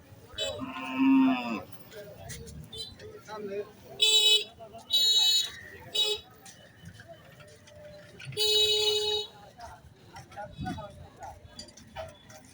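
Local cows mooing at a busy cattle market: several loud, drawn-out moos close by, in bursts spread through the clip, with people talking and bargaining in the background.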